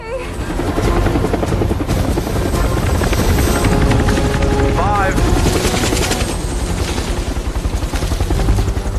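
A hovering helicopter's rotor thumps and whines loudly and steadily throughout a canyon rescue scene in an action film, with a dense, chaotic mix of other action sounds layered over it.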